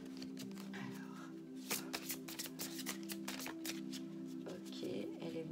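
Tarot cards are shuffled by hand, a steady run of crisp riffling slaps and soft flutters close up, continuing for several seconds over a faint steady hum.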